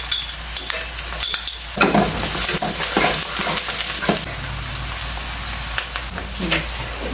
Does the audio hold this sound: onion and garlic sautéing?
yes